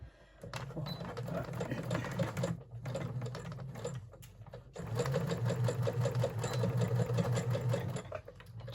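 A home sewing machine running steadily just after a needle change, a continuous mechanical whir with a fast stitching rhythm, close and moderately loud, briefly pausing twice before starting again.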